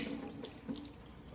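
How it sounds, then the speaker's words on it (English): Dirty water from a Bissell Little Green Mini portable carpet cleaner's tank pours into a sink, a steady close splashing drain with a brief louder gush partway through. "Just everything drains in the sink."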